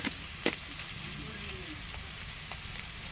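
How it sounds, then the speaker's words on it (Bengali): Spice paste with ground coriander sizzling in hot oil in a pan while being cooked down for a crab curry, a steady soft crackle with a couple of brief clinks near the start. "মশলাটা আমি ভালো করে কষিয়ে নেব"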